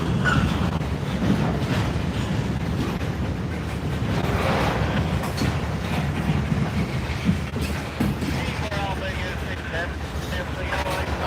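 A Norfolk Southern freight train with a distributed power locomotive rumbles past continuously, with steady mechanical rolling noise, occasional clicks and some wind buffeting on the microphone.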